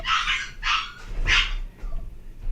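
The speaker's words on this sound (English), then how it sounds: "The puppies just, you know, they play pretty rough." Several puppies bark and yip in quick bursts while playing rough, three loud broadband barks in the first second and a half followed by fainter yelps, close by in a home kitchen.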